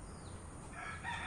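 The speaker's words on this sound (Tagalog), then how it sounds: "Yung ating manok." A rooster crows faintly at a distance over steady low background noise, its call rising toward the end.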